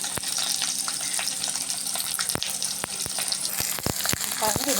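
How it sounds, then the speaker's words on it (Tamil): Garlic and a small lump of asafoetida sauté in hot oil with a dense, crackling sizzle, punctuated by sharp spoon clicks against the pan. "லைட்டாக வதக்கி லைட்டாக வதங்கிட்டே இருக்கணும்"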